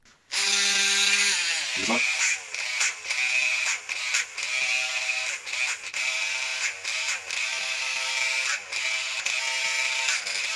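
A high-pitched small drill whirs steadily, boring 2 millimeter holes in a 3D-printed part, with short stops and restarts and a rattling mechanical buzz, close to the microphone.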